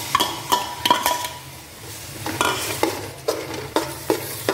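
Ground tomato paste going into chana masala frying in a pan, with close stirring scrapes and light sizzling in repeated strokes, no voices.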